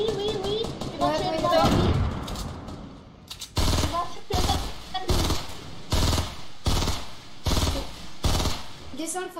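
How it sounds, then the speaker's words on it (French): Sniper and automatic gunfire in a video game battle royale match, a run of loud, evenly spaced sharp shots following a stretch of excited talk from players. "ça tire au sniper près de moi"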